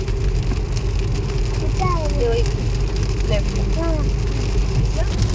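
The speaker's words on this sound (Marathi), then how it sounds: "एवढा जोराचा पाऊस चालू आहे" Heavy rain pours down in Lauterbrunnen village near Interlaken, a dense, steady hiss that stays loud and unbroken throughout, with a few faint chirps rising over it.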